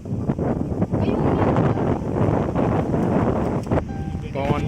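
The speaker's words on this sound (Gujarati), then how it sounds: "પવન પણ બહુ જ છે" Strong wind at Raval dam buffets the microphone with a constant loud roar and gusty rumble, while a person talks over it.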